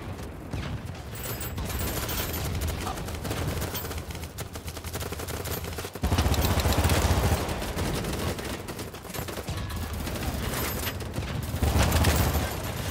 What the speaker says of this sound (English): Oh, I'm getting shot from everywhere!